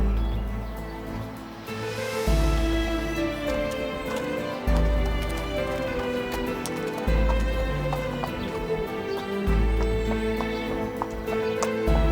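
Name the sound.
horse hooves clip-clopping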